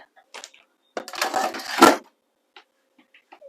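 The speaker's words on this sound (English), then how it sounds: "Might just give it a quick whisk." A whisk scrapes and clatters briskly through cheese sauce in a bowl for about a second, with scattered small clicks and knocks around it.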